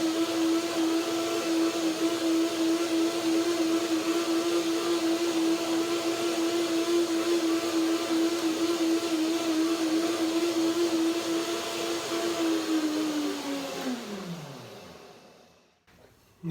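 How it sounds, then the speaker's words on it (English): A blender whirs steadily and loudly while churning hazelnut ice cream until creamy, then its motor winds down and stops near the end. "So one more blender dance to get it nice and creamy,"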